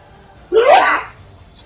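A single sharp human sneeze, close and loud, bursting briefly out of a quiet room during a tabletop role-playing session.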